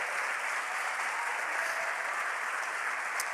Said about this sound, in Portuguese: Se é para o Senhor Jesus, você pode aplaudir mais forte